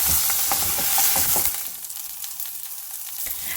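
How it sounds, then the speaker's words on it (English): Green chilies fry and sizzle loudly in a pan, with stirring scrapes and clatter at first, then a steadier crackling sizzle. "So keep a close eye on it, keep mixing it and let's fry them."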